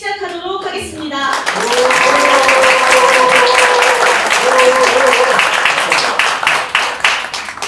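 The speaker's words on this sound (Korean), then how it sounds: "시민 보고회를 큰 박수와 함께 시작하도록 하겠습니다" At a citizens' report meeting in Seoul, a voice briefly speaks before an audience breaks into sustained, dense applause, which carries on alongside a faint tonal background before gradually thinning out.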